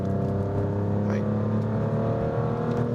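A Maserati GranTurismo's compact V6 in sport mode on a winding road drones with a dry, steady engine note heard from inside the car, holding a constant pitch with a brief rising whine midway.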